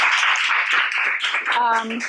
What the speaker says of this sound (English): let's give a round of applause for Karleen